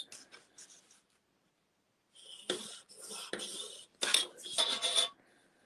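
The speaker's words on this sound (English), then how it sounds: "I'm going to just draw a line from corner to corner." A pen drawing a line from corner to corner on card, producing short scratchy scraping strokes in separate bursts, close and quiet with silent gaps between strokes.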